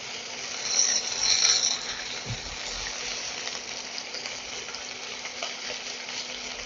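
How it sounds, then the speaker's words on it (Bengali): Chopped tomatoes fry in a pan over a raised flame for a potato and egg dish. A loud, steady sizzle swells briefly as the contents are stirred, then settles into an even hiss with no talking. "ফ্লেমটা আমি একটু বাড়িয়ে দিচ্ছি। একদম লালচে টাইপের ভাজাটা হবে, আর টমেটোগুলো দেখবেন গলে যাবে।"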